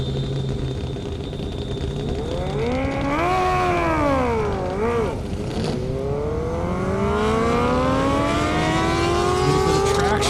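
A 2022 Honda CB1000RR motorcycle at an airport drag race revs loud and close, its engine note climbing in repeated rising sweeps, dipping briefly and then pulling up again in one long surge.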